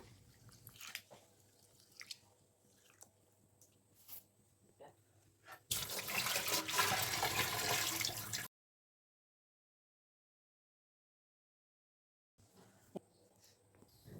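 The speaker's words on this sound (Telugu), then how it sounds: "ఒక పక్కన బియ్యం అయితే కడుగుతున్నాను" Rice is washed in water at a kitchen sink, with soft sloshing and dripping followed by a few seconds of loud rushing, splashing water, then silence and quieter movement.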